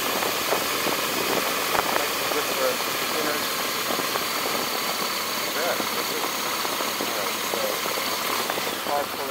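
A BMW R1250GS motorcycle engine runs steadily and close by with a continuous mid-pitched drone, alongside wind and road noise throughout.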